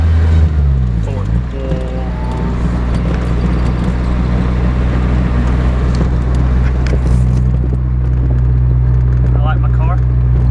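A Honda Del Sol with a freshly repaired transmission drives along, its engine a steady low drone with a brief rising rev early on, heard from inside the cabin while a person talks over it.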